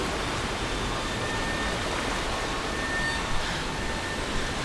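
Steady, powerful rushing water from the Tomb Raider video game forms a loud, unbroken roar with only slight swells and no voices.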